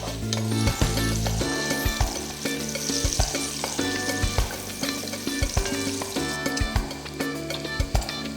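Pancetta frying in a pan on the stove over low-medium heat for a Bolognese sauce, a steady close sizzle with scattered clinks and scraping knocks throughout, no talk.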